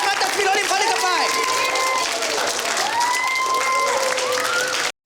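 A comedy show crowd breaks into applause, a thick continuous roar of clapping that runs the whole stretch, with a performer's voice rising and gliding loudly over it before the sound cuts off abruptly.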